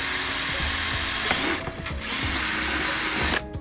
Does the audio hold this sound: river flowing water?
no